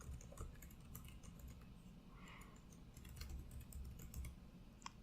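Fast, quiet typing on a computer keyboard while an email address is entered, a patter of light key clicks at close range.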